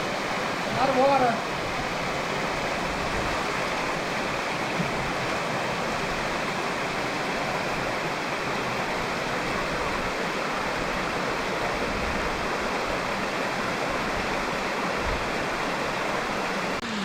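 Water rushes steadily through Surprise Canyon in Death Valley National Park, a continuous, fairly loud broadband roar like a stream or small cascade that never lets up, with a brief voice near the start.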